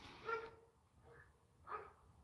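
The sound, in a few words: big dog barking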